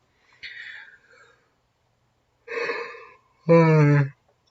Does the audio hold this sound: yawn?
yes